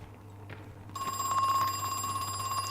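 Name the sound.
telephone ringing in a video game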